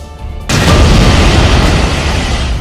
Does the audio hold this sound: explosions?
yes